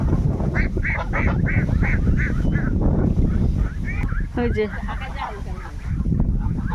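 Domestic geese heading home from a river give a run of loud, rhythmic nasal honks up close, followed by scattered calls mixed with background noise, and a person speaks briefly near the middle.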